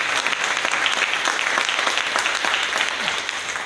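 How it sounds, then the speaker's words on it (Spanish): A church congregation applauds for Jesus during a Spanish-language service, loud, steady massed clapping from many people that holds throughout and eases slightly at the end. "Dale un aplauso a Jesús."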